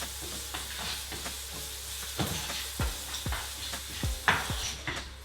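Salt and pepper squid mixture with black pepper and salt is stirred in a pan over steady sizzling, with a run of scraping spoon strokes and taps against the metal that get louder toward the end, and no talking.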